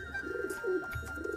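A Sirazi Lahori pigeon, a large high-quality breed, coos in a steady run of low, throaty rolling calls, fairly close and alone, with light background noise.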